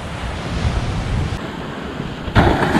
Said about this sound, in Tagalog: lakas pa rin yung alon kahit umaga